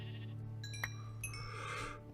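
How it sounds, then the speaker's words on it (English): Sheep in the Minecraft Feed the Beast modpack gives a brief bleat over a steady low game hum, fairly faint and alone without talk. "Oh, and a sheep."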